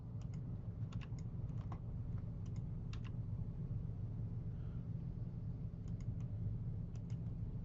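Typing on a computer keyboard, a few short bursts of quiet, close key clicks separated by pauses, over a steady low hum and rumble.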